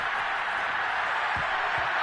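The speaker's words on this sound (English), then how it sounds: "How about some applause for the defense there?" A stadium crowd in the football video game Madden 22 claps and cheers in a steady, broad wash of applause, with a commentator's voice faintly mixed in.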